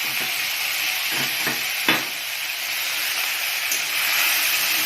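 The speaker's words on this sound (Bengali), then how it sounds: "তেলটা গরম হয়ে গেছে, এবার শোকো চিংড়িটা দিয়ে দেবো।" Steady loud sizzling of dried shrimp frying in hot oil, with a few brief clinks and stirring sounds partway through.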